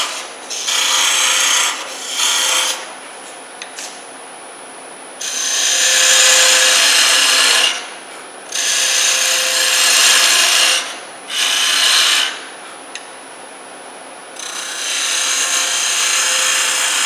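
A parting tool cuts into a spinning piece of segmented wood on a lathe while a baby rattle is being turned, giving loud, steady scraping bursts that stop and start again with short pauses between passes.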